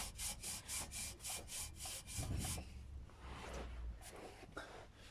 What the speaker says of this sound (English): you can just give it some rubbing